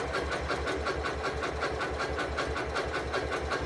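A sewing machine stitches a zigzag over a gathering thread, its motor whirring steadily with a fast, even mechanical pulse that runs without a break from start to finish.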